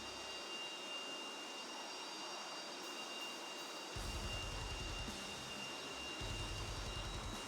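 Jet engine of a SAAB AJS 37 Viggen in the DCS flight simulator running with thrust reversal while the aircraft backs up, a steady loud roar with a deeper rumbling surge partway through.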